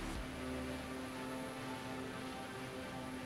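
A propeller airplane in a flight simulator game hums along in a steady, even engine drone on a bush flight from Karlovy Vary to Líně, constant and unbroken with no talk.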